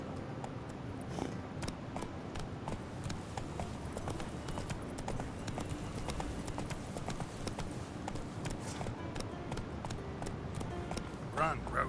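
Roach, the horse in the video game The Witcher 3, gallops in a fast, steady clip-clop of hooves that runs the whole time, with a voice speaking now and then over the hoofbeats.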